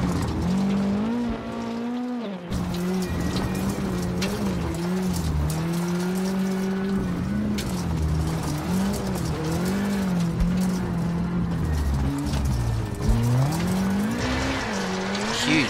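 A WRC2 rally car in WRC7 on a Rally Italy stage roars continuously up close, its engine note rising and falling through gear changes while tires squeal and skid as it understeers through corners.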